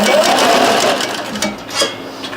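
A sewing machine stitching, a loud, close, continuous mechanical whir that eases slightly near the end, with a couple of soft clicks and no talking.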